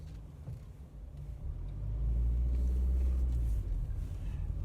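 A car passes at a junction on a slow two-way street, its low engine rumble swelling from a moderate idle-like hum to a louder, close drone before easing slightly, with no speech.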